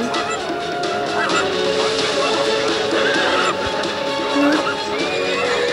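A horse neighs and whinnies in the WildCraft video game, mixed into a dense, steady game soundscape with other animal calls and ambient noise throughout.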